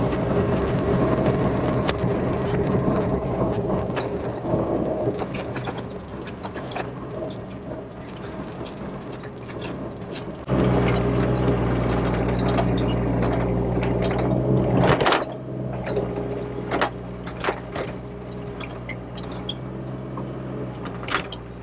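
An excavator grades dirt at an old house site, its engine droning steadily with clanks and scraping, and the engine note rising to a heavier rumble partway through.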